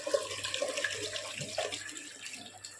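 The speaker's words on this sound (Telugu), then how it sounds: "ఫిల్టర్లో పోయాలి వాటర్." Water poured into a household water filter, a close, soft splashing trickle that runs continuously and gradually tapers off.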